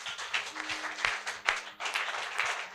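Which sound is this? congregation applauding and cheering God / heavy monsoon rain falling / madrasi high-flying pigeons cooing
congregation applauding and cheering God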